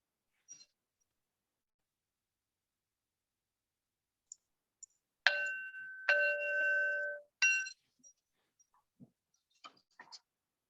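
A few resonant metallic strikes from a gong at the start of a Unitarian Universalist Sunday service ring out in a quiet room, sustained tones fading between soft scattered clicks.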